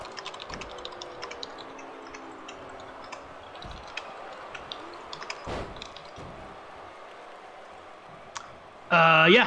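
Quiet computer keyboard typing, scattered soft key clicks ticking at an uneven pace throughout, with a brief louder burst of sound near the end.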